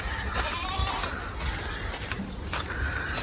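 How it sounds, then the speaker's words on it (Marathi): A goat bleats on a farm, several short calls spaced across the stretch over steady outdoor background noise, with a voice speaking briefly. "हे बघ बकरी बघा."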